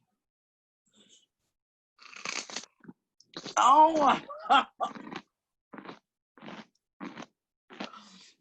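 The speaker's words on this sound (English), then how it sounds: "That was the best crunch I've gotten through Zoom yet." Someone bites into crunchy food over a Zoom call, giving several sharp crunches spaced out with pauses, one louder burst in the middle, as a voice briefly reacts.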